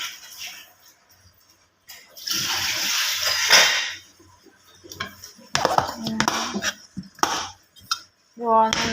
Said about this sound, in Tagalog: Ayan, hugasan natin.